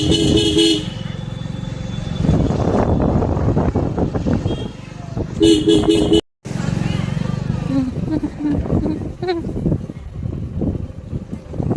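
A motorcycle rides through busy road traffic, engine droning close by while car horns toot and honk repeatedly around it; people talk over the noise, and a brief gap of silence breaks it midway.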